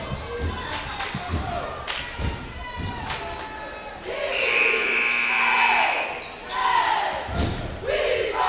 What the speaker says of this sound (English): The buzzer sounds.